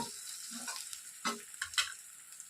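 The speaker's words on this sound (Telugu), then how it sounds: "కొద్దిగా పచ్చివాసన వెళ్ళేంత వరకు పుదీనాను వేయించుకుందాము" Mint leaves fry with chicken in a pan for an Andhra-style chicken roast, giving soft sizzling broken by a few sharp scraping stirs, close and alone.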